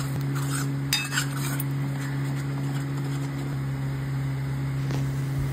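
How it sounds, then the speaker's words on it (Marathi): Masala paste sautéing in oil in a pan. A soft, steady sizzle sits under a constant low electrical hum, with a few utensil clinks and scrapes near the start. "तयार वाटण टाकायचं आहे आणि छान असं परतून घ्यायचं आपल्याला तेलावर।"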